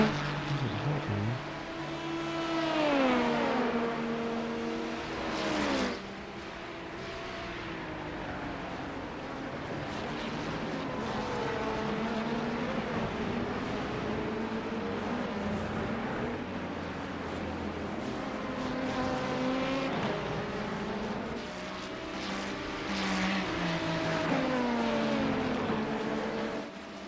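LMP2 prototype race car in iRacing leaving the pits, its engine droning and rising and falling through gear changes over about 27 seconds, with other cars passing close by in traffic.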